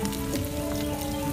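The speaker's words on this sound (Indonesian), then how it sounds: "Kita panaskan minyak" Cooking oil heats in a small pan before banana stem chips are fried, giving a steady, close crackling hiss like light rain that holds level throughout with no speech.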